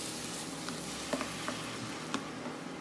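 Spiced eggplant sizzling softly in a pan after water is added, a quiet steady hiss broken by a few faint spatula taps and crackles.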